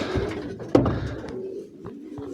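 A show pigeon coos low and throaty nearby, with a soft rustle and a faint click in the background.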